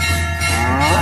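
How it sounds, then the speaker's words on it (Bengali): A cartoon cow moos loudly and closely, one long drawn-out low call filling the moment. "নীলু কেন এত জোরে বারবার ডাকছে?"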